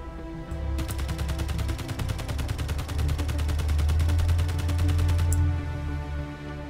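A rapid automatic burst of gunfire in the Space Engineers survival game, an evenly spaced stream of sharp shots lasting several seconds over a low engine-like drone, then stopping abruptly.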